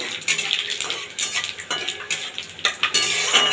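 Whole spices for a Bengali phoron tempering go into smoking-hot oil and get stirred, giving bright spattering sizzle broken up by repeated scrapes and clinks of a metal spoon against the pan, close and with no voices.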